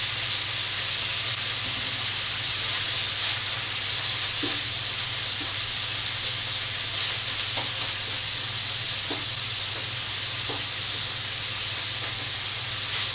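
Mushrooms cooking gently in butter in a pan over low heat make a steady, even sizzle and hiss that carries on without a break, with a few faint stirring clicks.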